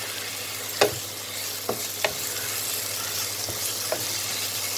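Leftover roti noodles fry in a pan with capsicum, ginger and garlic as soya sauce goes in, a constant sizzle punctuated by a few sharp spoon clicks and scrapes, close and wordless.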